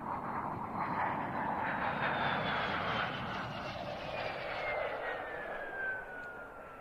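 A de Havilland Vampire jet goes around at an airshow arrival. Its engine roars steadily at a distance, with a high whine that slowly falls in pitch as it passes.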